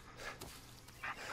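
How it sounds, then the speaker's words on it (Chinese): A dog in the video game Blair Witch gives faint, short yips and whimpers with quiet game ambience around them. "狗狗"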